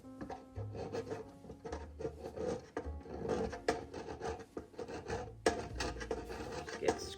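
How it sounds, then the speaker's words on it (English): Ordinary table knife scraping stuck-on residue from a dirty crockpot, close rasping and rubbing strokes in an uneven rhythm with intermittent scrapes at a fairly soft level. "you can take just a regular table knife and see if that will get it off"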